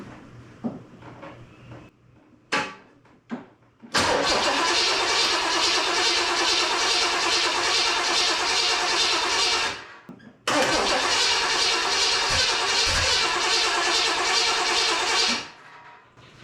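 A 1979 Corvette being jump-started: a few short clicks and tries, then two long bursts of rapid, loud cranking separated by a brief pause, with no clear catch to a steady idle, close up and without talk.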